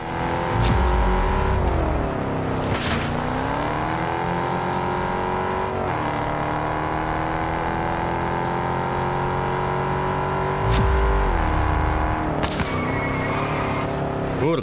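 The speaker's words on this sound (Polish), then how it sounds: "Sposób w jaki sposób zmienia biegi ten samochód też jest..." A Ford Mustang roars through its gears in Test Drive Unlimited: the engine note climbs steadily and then drops sharply at each gear change, several times over, loud and close with no talking.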